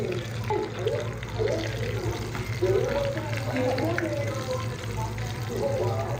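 Cold water runs steadily from a kitchen tap while a chicken-strip salad is being prepared, a continuous close splashing flow with voices talking over it.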